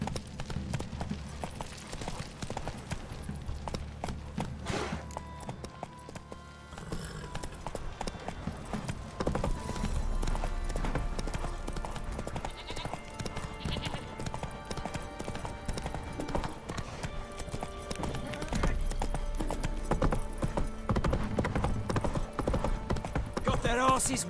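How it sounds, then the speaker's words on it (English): A horse gallops in The Witcher 3: Wild Hunt, the rapid hoof clip-clop rolling continuously and fairly loud for the whole stretch, with game sounds and someone talking over it at times. "Giddy up."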